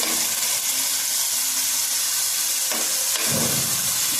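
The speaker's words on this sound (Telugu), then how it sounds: "టమాటాలు అయితే ఈ విధంగా వేయించుకోవాలండి" Tomatoes frying in a pan for a Telugu tomato and green chilli chutney, a loud, steady, close sizzle and hiss that runs throughout, with brief stirring scrapes near the end.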